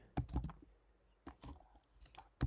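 Computer keyboard keys tapped in short, scattered clusters of clicks, close and fairly quiet, with pauses between bursts.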